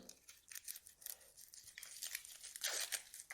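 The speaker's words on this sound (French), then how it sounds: "J'épluche mon oignon." An onion being peeled by hand: quiet, close, crisp tearing and crinkling of the papery skin in irregular bursts, getting louder near the end, with no talking.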